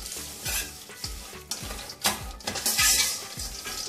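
Fried nuts are stirred back into rice crispy chivda in a pan, a spoon scraping and clinking in repeated strokes about twice a second over a soft sizzle, close and without talk.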